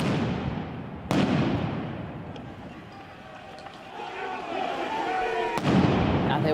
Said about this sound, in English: Firecrackers lit up the night in Cremona, Italy.